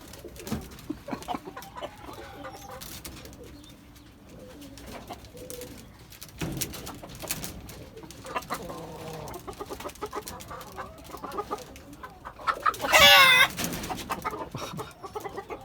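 Hens cluck and murmur steadily up close on a rooftop garden while laying eggs, with a louder burst of squawking near the end.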